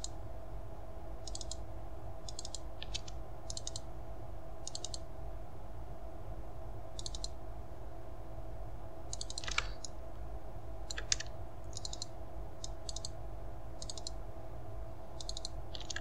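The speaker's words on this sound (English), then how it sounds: "I'm just holding shift and double clicking here." Computer mouse clicked in quick pairs at irregular intervals during 3D modeling work, crisp and close against a steady low electronic hum, with no talking.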